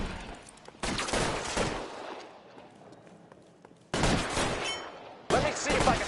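Heavy bursts of gunfire in the L.A. Noire police shootout, three loud volleys with a quieter stretch between them.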